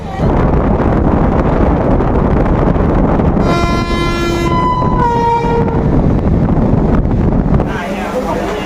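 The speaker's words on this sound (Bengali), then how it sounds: "ট্রেন কিন্তু খুব সুন্দর একদম টাইমিংয়ে একদম টাইমে টাইমে স্টেশনে কিন্তু ঢুকছে" MEMU local train pulling into Sonamukhi railway station, with a steady loud rumble of wheels and wind, then a long two-tone horn blast sounding twice in the middle before the roar eases.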